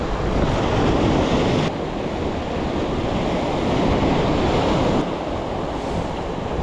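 Rough sea waves surge and break onto the shore during a storm swell, a loud, continuous roar of churning surf mixed with heavy wind buffeting, with no voices.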